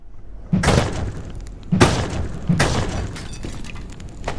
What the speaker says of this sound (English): one of those Ordo guys is fighting something. You hear the gunshots.